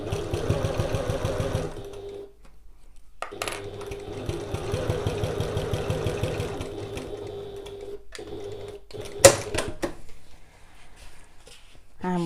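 A sewing machine runs in long steady bursts, stitching the seams of a Stanley Satchel bag. The fast mechanical chatter stops briefly for pauses and small clicks before it starts again.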